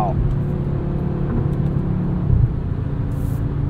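A 2022 Audi RS 3 driving in RS Torque Rear mode gives off a steady, close engine drone and road rumble, with a brief swell of revving partway through.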